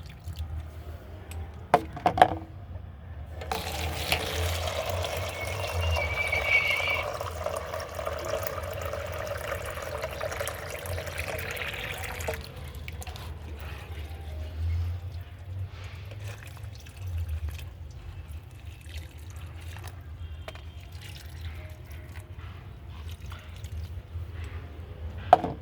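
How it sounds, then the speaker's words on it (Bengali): Water pouring and trickling into a flower pot of marigold plants, a steady wet flow with soft dripping and squishing soil that continues throughout. "গাছগুলো ভর্তি ভর্তি করে জল দিয়ে দেবো"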